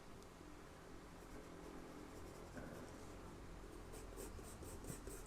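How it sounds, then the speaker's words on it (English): A pencil point scratches and strokes lightly across paper while sketching hair strands on a portrait drawing, soft close scribbling with short quick marks growing busier toward the end. "Now I can use the point of the pencil just to indicate some of the direction of the hair as it comes down"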